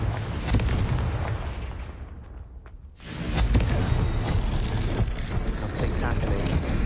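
A Confringo spell explodes in Hogwarts Legacy, a loud rumbling boom that fades, followed by a second sharp burst and sustained roaring blast noise, with a voice calling out over it.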